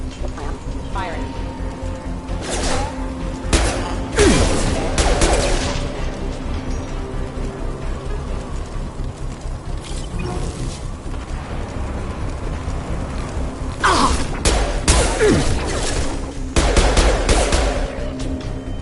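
Combat gunfire in the Mass Effect Legendary Edition video game as Shepard's squad battles security mechs, with several loud clusters of shots and blasts separated by calmer stretches, and speech running through the fight.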